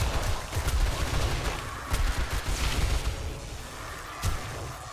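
Gunfire in the survival game 7 Days to Die during a snow horde night, with several sharp shots and bursts spread across the moment at moderate loudness.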